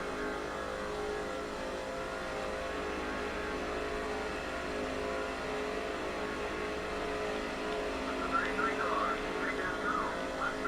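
Several stock cars running close together in a draft at Talladega in NASCAR 06, a steady unbroken engine drone under continuous race commentary.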